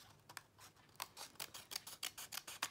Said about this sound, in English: I'm just gonna go through my little cutter bee scissors